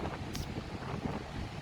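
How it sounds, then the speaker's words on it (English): Strong wind blows steadily across a beach where salt hangs in the air, a loud, unbroken roar of gusts buffeting the microphone with no one speaking. "It's very windy."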